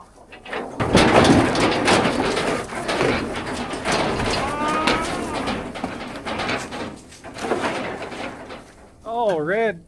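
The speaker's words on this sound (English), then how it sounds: "Oh, red cattle on grass look nice" Red cattle out on grass at a farm, with drawn-out moos and lowing rising and falling over about ten seconds. Bird calls and wind noise sit in the background, and a rising-falling call stands out near the end.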